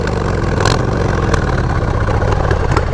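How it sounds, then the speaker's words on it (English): A motorcycle idles through an LAF exhaust with a loud, steady, close rumble. Its note rises briefly in a few short blips. "this is the LAF exhaust"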